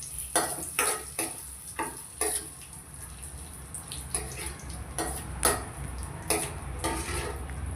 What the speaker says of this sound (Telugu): కాజు బాదంని కట్ చేసుకొని ఇలా నెయ్యి వేడైన తర్వాత వేయించుకోవాలి